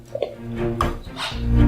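Egg whites stirred into a chocolate mixture in a bowl give soft scraping and light clinks of a utensil against the bowl, close and fairly quiet, with faint kitchen background.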